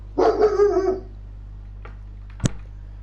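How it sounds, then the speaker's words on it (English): A dog barks in a quick burst of several yips near the start inside a motorsport race commentary booth, followed by quiet room tone and one sharp knock. "Yeah, the dog in the commentary booth agrees."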